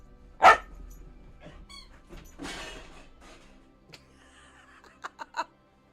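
A dog playing with a ball indoors gives one loud, sharp bark near the start, followed by soft background noise, light laughter and a quick cluster of knocks near the end.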